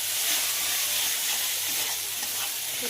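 Spice masala being fried down in a pan, ahead of adding chicken, gives a steady, close, loud sizzle and hiss that runs unbroken throughout with no voices.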